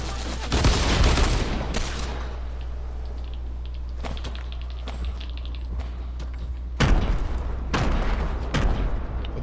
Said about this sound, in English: I threw grenades at him.